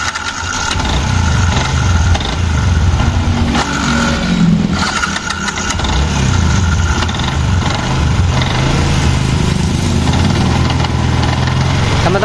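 Yamaha Jupiter MX motorcycle with a rough-running engine and noisy starter, idling loud and close in an uneven, lumpy rumble with a brief rise in the middle, no talk.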